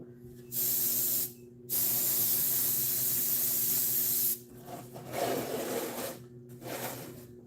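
Aerosol spray coating hits diecast model cars in two long, loud hissing bursts separated by a short pause, followed by quieter rustling handling noises.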